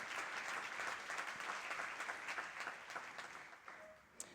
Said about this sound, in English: So just a big round of applause to them.